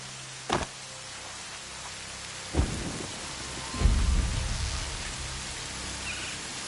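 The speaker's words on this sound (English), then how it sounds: "And there's the rain." Steady rain hisses in a PS4 video game, broken by a sharp thunder crack early on, another crack midway and then a deep, rolling rumble that slowly fades under the rain.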